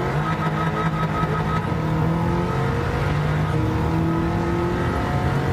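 A Bugatti Chiron in Gran Turismo 7, its engine holding a high, strained roar as the pitch climbs and shifts in long rising sweeps, loud and continuous with no talk over it.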